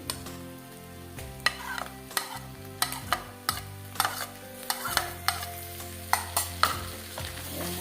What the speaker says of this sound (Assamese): দিয়াৰ পিছত এয়া লৰাই দিছোঁ।